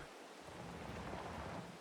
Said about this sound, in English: doesn't look like the rain is going to be stopping anytime soon